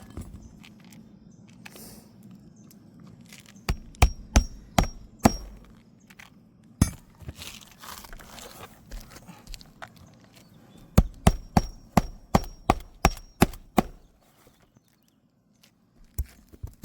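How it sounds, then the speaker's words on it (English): Nails are driven into a roof pipe boot with a hammer: sharp, close, distinct strikes in bursts, a few spaced blows followed by a quick run of about ten, then silence. "let's get some more nails in there."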